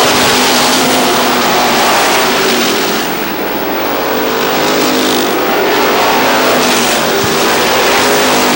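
Pro stock race cars roaring around the speedway, a loud continuous engine blare of several cars passing close, swelling and fading as the field comes off a turn.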